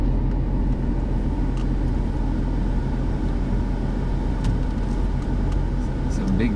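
A big car is driving, heard from inside the cabin: a constant low engine and road rumble with steady tire noise, continuous and even for the whole stretch.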